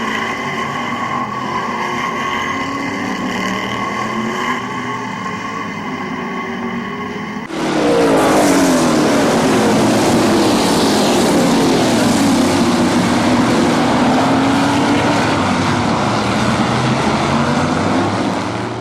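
Race cars at Midvale Speedway surge as the green flag drops, a steady engine drone jumping at once into a loud, dense roar of the field thundering around the track, sustained and close.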